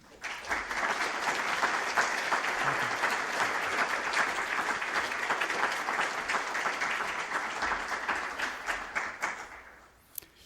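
An audience at the 2009 Dunning Lecture applauds to welcome a lecturer: dense, steady clapping from a full room that keeps going for about ten seconds before thinning out and stopping.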